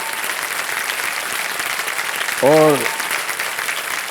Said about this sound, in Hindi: तो सबसे पहले तालियां बज जाए,